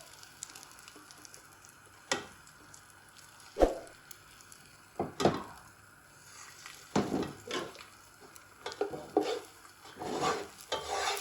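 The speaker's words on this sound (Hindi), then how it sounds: "ये देखें, अंडे को पूरी पतीली में हमने फैला देना है।" Beaten egg spread and stirred in a pot over a flame for restaurant-style chicken fried rice, with a soft sizzle under repeated scraping and clanking of a utensil against the pot, and no voices.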